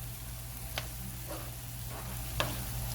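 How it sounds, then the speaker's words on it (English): Diced tomatoes and chopped chilies land in a hot pan with Italian sausage, producing a soft steady sizzle with a couple of faint clinks and stirring scrapes, quiet and close with no talking. "So now I'm going to add in some diced tomatoes. With some chilies chopped up."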